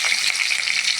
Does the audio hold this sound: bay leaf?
yes